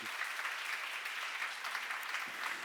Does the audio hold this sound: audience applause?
yes